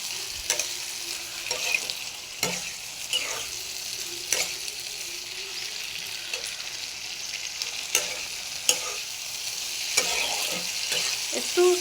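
Snake gourd with crushed peanuts and poppy seeds sautéing in a pan, a steady sizzle broken by repeated sharp spatula scrapes and stirs against the metal, close and clear with no talking.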